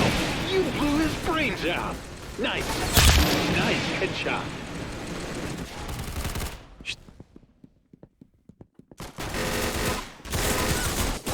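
An odd gun fires in Roblox Arsenal, dense bursts of game gunfire mixed with chatter, then a quieter stretch of rapid small pops before the clatter returns loudly.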